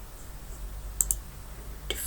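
Quick pair of sharp computer mouse clicks pressing a preview button in report designer software, followed by another faint click, over a quiet room.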